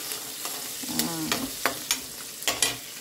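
Cashews fry in a pan for semiya upma, a close sizzle broken by several sharp scraping stirs of a spoon against the pan, spaced irregularly, with no voices.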